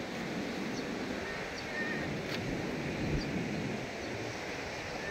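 Strong wind rushes steadily at a beach resort in San Juan, La Union, a constant broadband roar buffeting the microphone with faint distant surf beneath and no talk.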